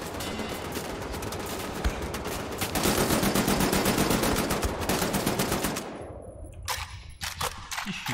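Enemy gunfire in the shooter Wolfenstein: The New Order comes from an adjoining room as loud, sustained automatic bursts. Rapid shots overlap for several seconds, then thin out into a few scattered cracks.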